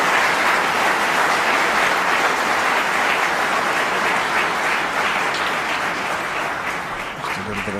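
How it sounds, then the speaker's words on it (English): An audience in the arena at the 2007 World Snooker Championship applauds steadily, a dense, loud and sustained clapping that fades slightly toward the end. "And some applause from this side of the arena"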